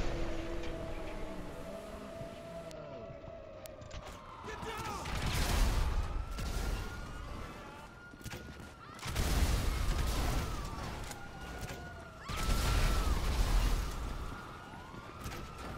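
Grenade launcher firing in GTA Online, with three heavy explosive bursts spaced several seconds apart amid wailing police sirens, while someone talks over the action.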